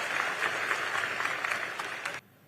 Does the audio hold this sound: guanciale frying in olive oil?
no